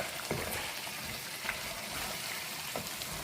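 Vegetables frying in an open, uncovered pan in a home kitchen, giving a steady broadband sizzle with faint crackles and small pops throughout, no voices.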